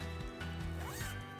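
A zipper is pulled shut along a laundry bag holding silk clothes, a quick rasping run of about a second and a half, close and clear with no talk over it.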